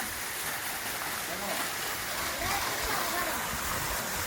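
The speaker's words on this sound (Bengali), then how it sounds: "প্রায় ঝর্ণার ভয়াবহ আওয়াজ শোনা যাচ্ছে" A tall, narrow forest waterfall in the jungle at Sitakunda roars in a steady, dense wash of falling water, close and loud throughout, with faint speech mixed in.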